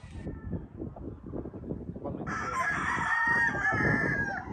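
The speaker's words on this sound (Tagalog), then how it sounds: "ito yung broodstag natin na Milsim's hatch na ka-cross sa asil" A rooster broodstag, a Milsim hatch crossed with Asil, crows once loudly and close, a drawn-out strained call that rises over a background of pattering, clucking farmyard noise.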